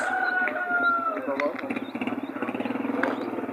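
Chickens and roosters at an outdoor poultry market in Dörtyol, Hatay, clucking and calling amid crowd murmur and voices, with a high crow-like call early on.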